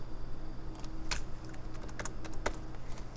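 Computer keyboard keys clicked while working in Adobe Illustrator, a few sharp separate key presses with small gaps over a steady low hum.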